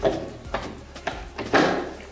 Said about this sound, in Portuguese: Dois fechos tipo rolete, onde essa tampa se encaixa.